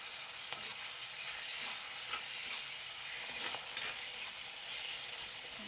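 Chopped tomatoes sizzle in hot oil in a wok while a spoon stirs them, giving a steady frying hiss broken by soft scraping knocks, close and without talk.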